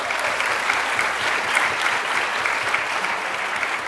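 Sustained applause from an audience at a school board meeting for outstanding students, dense steady clapping filling the room from start to finish.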